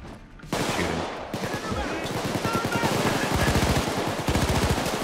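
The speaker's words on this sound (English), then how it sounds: "I'm shooting." Automatic gunfire from a firefight on day two of the Framing Frame heist in Payday 2 comes in loud, rapid bursts that grow denser toward the end, with occasional voices mixed in.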